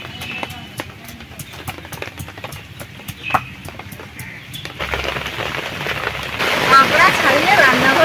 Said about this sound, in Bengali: আর বৃষ্টিও চলে এসেছি